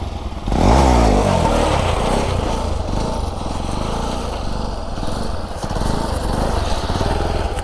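A motorcycle engine revs hard during wheelie practice. It opens with a sharp throttle rise, then holds a loud, rough, close drone with slight rises and dips in pitch.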